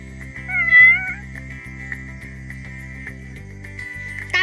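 Kittens meowing over a steady sustained musical backing, a few short mewing calls clustered near the start, moderately loud and clear.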